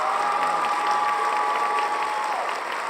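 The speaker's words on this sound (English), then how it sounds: "I'm gonna clap it up for that" Steady burst of clapping, dense and continuous for a few seconds, with a faint whistle-like tone riding over the applause and no speech.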